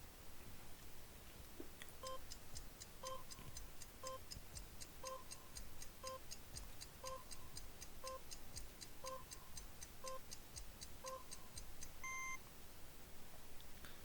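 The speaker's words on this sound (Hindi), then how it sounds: "नेक्स्ट टाइमर आपके लिए शुरू हो रहा है अब" A countdown timer during a timed quiz question, with steady ticking and a pair of short electronic beeps repeating about once a second for roughly ten seconds, then a final higher tone.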